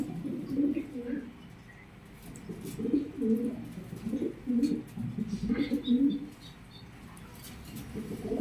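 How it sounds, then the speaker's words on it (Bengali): Large red Danish pigeons coo in repeated low, throaty bursts close by, with brief pauses between phrases and faint chirps in the background. "বন্ধুরা বোম্বাই কবুতর যাকে বলে"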